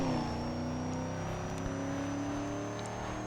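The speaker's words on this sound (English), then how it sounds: "that little sound effect you're hearing in the background, by the way, that is the supercharger" Supercharger whine from a car in Need for Speed: Most Wanted (2005, PS2): a thin, steady high-pitched whine sits over a continuous engine drone, with no talking.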